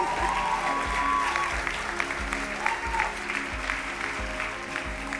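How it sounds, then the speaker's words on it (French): An audience claps steadily throughout, a sustained wash of applause with a voice and some music faintly underneath. "Est-ce qu'on peut les applaudir aussi, s'il vous plaît?"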